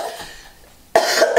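A single harsh, loud cough bursts out suddenly after a stretch of quiet room tone, followed by a short, rough rasp.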